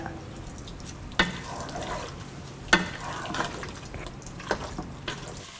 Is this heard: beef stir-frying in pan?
yes